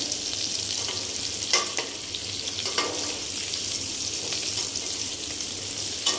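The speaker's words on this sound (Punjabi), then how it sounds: "ਫਿਰ ਉਹਨਾਂ ਨੂੰ ਐਂ ਤਲ ਸਕਦੇ ਆ ਐਂ ਤਲ ਲਓ" Potato pieces for dhaba-style dum aloo fry steadily in a pan of oil, a continuous close sizzle with occasional louder pops and stirring scrapes, no voices.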